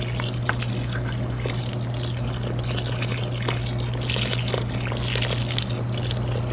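Warm water is poured over chicken feed grains to soak them, giving a steady, close pouring and trickling sound that runs throughout over a low constant hum.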